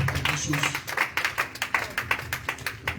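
A church congregation claps in acclaim of the Lord, a fast, even run of sharp hand claps with a voice faintly underneath.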